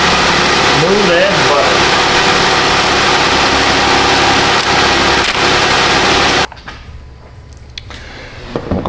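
Jeep Wrangler engine with a misfire and failed injector, running rough at a loud steady idle-like drone that cuts off sharply near the end, with someone speaking.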